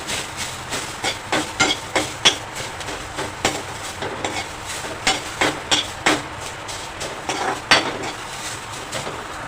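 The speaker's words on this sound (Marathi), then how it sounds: "आता कोथिंबीर घालूया हलकंसं फ्राय करूया" Fresh coriander leaves fried lightly in a pan for a no-onion, no-garlic Maharashtrian katachi amti, giving a steady sizzling hiss broken by frequent clinks and scrapes of a stirring spoon.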